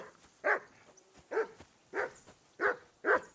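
Dog barking in the medieval game Kingdom Come Deliverance 2: five sharp, loud barks spaced roughly half a second apart, close by and alone without speech.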